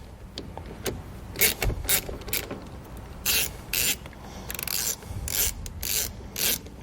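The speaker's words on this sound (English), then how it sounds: "slide our ring terminal underneath the head of the nut and tighten it back down" A nut is tightened down over a wire ring terminal during an Air Lift wireless air compressor installation, heard as a series of short, close ratcheting rasps in irregular bursts, with no talk.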